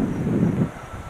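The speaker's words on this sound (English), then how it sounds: "guys, it's very windy." Low, rumbling wind from a storm buffeting the microphone, a steady dull roar with no voices.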